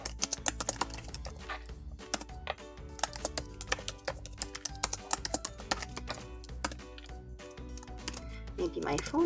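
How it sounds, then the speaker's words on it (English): Rapid keyboard typing, a steady stream of sharp clicks and taps close by, with brief pauses between bursts. "And then start typing in your information."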